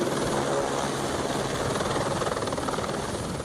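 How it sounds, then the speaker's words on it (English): A helicopter drones steadily, its rotor chop and engine roar forming a constant, loud wash of noise with no voices. "fire helicopters can collect water from them"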